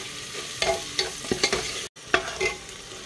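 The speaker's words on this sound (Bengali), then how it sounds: "পেঁয়াজ রসুন আমি ভালোভাবে ভেজে নিয়েছি" Onion and garlic sizzle in a pan while a spoon scrapes and stirs in several short, close strokes, with a brief silent gap near the end.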